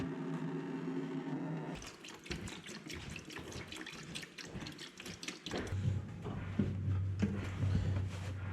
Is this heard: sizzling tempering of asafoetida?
no